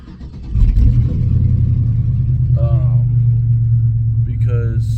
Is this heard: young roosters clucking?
no